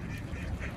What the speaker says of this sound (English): I think now you should go there and feed those birds.